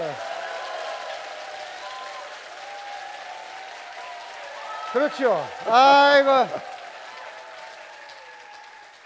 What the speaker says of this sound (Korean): 생각보다는 박수가 영 껄쩍지근하시네